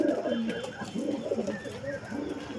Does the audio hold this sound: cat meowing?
no